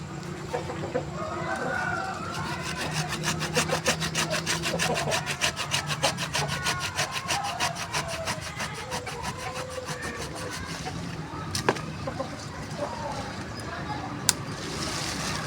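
A hand saw cuts through a ficus bonsai trunk in fast, rhythmic back-and-forth strokes for several seconds, then stops; chickens cluck in the background and a voice speaks.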